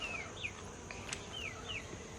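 Honey bees swarm around a flow hive in a steady, close buzzing hum, with a few sharp bird chirps ringing out above it.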